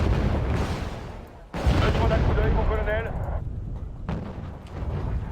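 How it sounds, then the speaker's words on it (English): Heavy booming blasts of artillery fire in the video game Wargame: Red Dragon erupt in a few bursts, with a voice talking over the explosions. "Oh no, not the artillery again."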